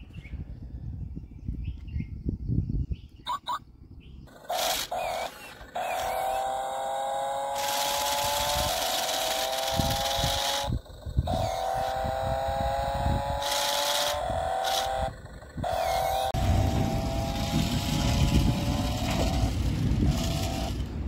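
A hand-sensor, gesture-controlled remote-control stunt toy car runs with a steady, whining electric motor that rises and falls in pitch, broken by brief stops, bumps and rattles as it moves close by.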